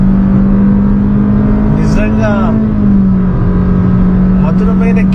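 A Honda Elevate accelerates through a long sweeping corner, its engine holding a steady, loud drone from the cabin for the whole stretch, while someone talks over it.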